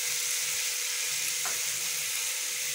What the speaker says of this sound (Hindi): अब हम लोग इसको अच्छी तरह से फ्राई कर लेते हैं, इसको भूनना है हम लोगों ने ऑयल के अंदर 3 से 4 मिनट के लिए